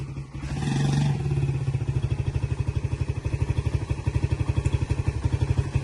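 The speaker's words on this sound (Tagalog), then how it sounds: "Kay RD na lang ako sasakay, mag-isang motor na lang tayo." A motorcycle engine chugs steadily up close, its rapid, even putter holding a constant rhythm as the bike rides along.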